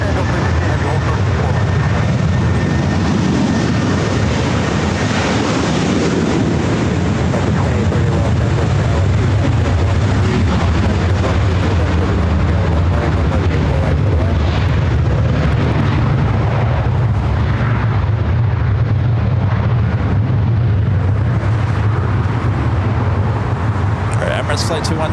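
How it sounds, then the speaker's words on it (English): A jet airliner takes off at LAX, a loud continuous roar with deep rumble that swells and shifts over about twenty-five seconds, with talk over it. "Flight 216, the flight heading back to Dubai, now heading up for a north side at takeoff"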